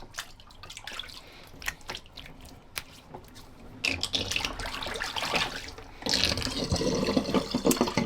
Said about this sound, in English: let's empty good old Sigmund Sea Monster sink.